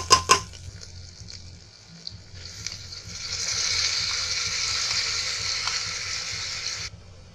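Masoor dal drops into hot oil in a pan for a raw mango dal: a couple of sharp clanks at the start, quiet rattles, then a hissing fry that swells and holds before cutting off, with no talking.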